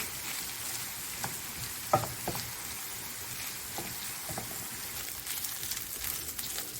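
Meat fries in a hot pan for Iskender with a soft, steady sizzle, broken by a few light pops and stirring clicks, fairly quiet and close.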